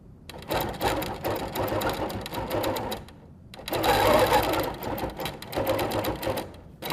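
Sewing machine stitches rough-edge applique through a 360 Wonderfoot hopping foot, a close, fast, steady whirring hum with rapid needle ticks, running in two long bursts with a brief pause between.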